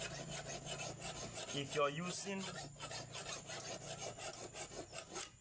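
A machete blade for palm harvesting is sharpened with repeated rasping strokes at a steady rhythm, close and fairly quiet, with a brief stretch of speech in the middle.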